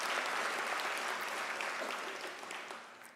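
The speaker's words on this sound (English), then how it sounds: "you need to give an applause to that" A graduation ceremony crowd applauding steadily, a dense wash of clapping that holds level and then tapers off slightly toward the end.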